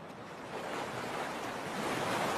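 Ocean waves washing onto a beach of lava rocks shaped by the surf, a steady broad roar of breaking water that swells slightly, with no voices.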